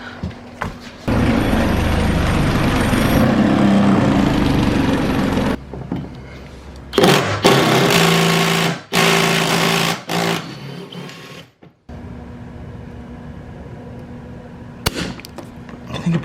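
A power drill with a bit whirs in loud bursts while gutting an MCI bus, stopping and restarting several times with abrupt cutoffs and brief quiet gaps between runs.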